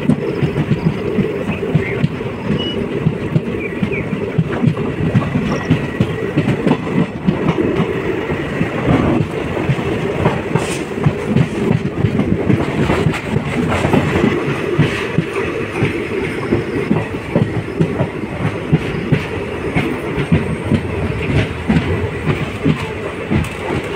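Silambu Express passenger train running on track toward Sengottai, a steady close rumble of wheels and carriages with rhythmic clickety-clack joints throughout, no talk.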